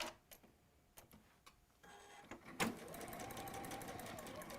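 Sewing machine stitching a quarter-inch seam, starting after a few faint clicks and handling sounds, then running as a steady, close, rapid mechanical whir through the second half.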